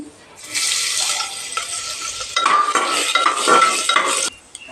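Garlic, ginger and garam masala fry loudly in hot oil for a chicken stew, with a bright hissing sizzle and busy spatula scraping and clinks against the pan for several seconds before it cuts off. No one speaks.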